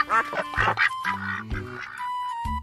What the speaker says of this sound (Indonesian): ternyata bebek warna kuning teman-teman